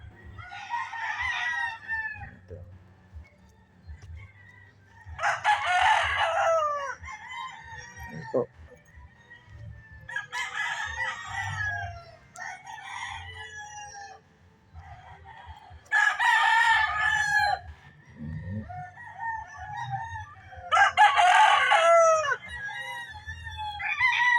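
Gamecock roosters at a game fowl farm crow repeatedly, several loud drawn-out calls in a row, with faint clucking and background noise between them.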